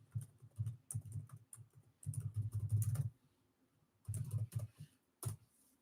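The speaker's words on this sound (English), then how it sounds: "I'm going to type it in" Typing on a computer keyboard to enter a web address, with close, rapid bursts of key clicks separated by short pauses.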